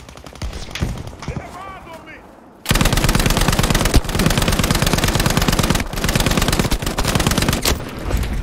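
A Lewis machine gun fires in Battlefield 5 as one long, loud, rapid burst that starts after a brief stretch of game noise and other gunfire. Short breaks interrupt the rattle, and someone talks quietly underneath.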